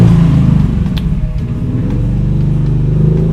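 Motorbike engine revving at night, a loud, steady low rumble close by with slight surges.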